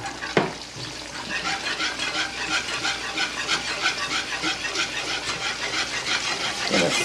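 Heavy cream stirred into a hot pan for gravy, making a steady close sizzling hiss with soft scraping from the stirring throughout.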